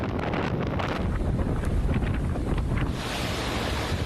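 Roaring hurricane wind buffets the microphone as waves crash in the distance during Hurricane Dorian's landfall in the Bahamas, a loud continuous storm roar with no voices.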